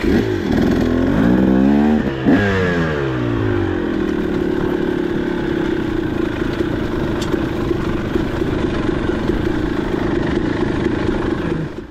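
A 2023 KTM 300XC two-stroke dirt bike on a rocky Peach Valley trail, ridden in second gear, revs up loud and close with sweeping pitch rises early on, then holds a steady, buzzing drone throughout.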